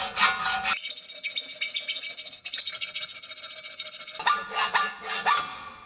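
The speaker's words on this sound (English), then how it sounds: "When I'm using this hacksaw, which way are you cutting?" Hacksaw cutting through an aluminum Corvette subframe, rapid rasping back-and-forth strokes up close, with a brief pause and a change in tone as the cut goes on.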